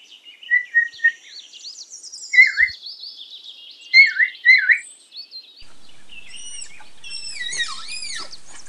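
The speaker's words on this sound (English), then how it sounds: "Parrot." A parrot gives a series of sharp, high chirps and squawks in separate bursts at close range, then breaks into a denser run of quick calls.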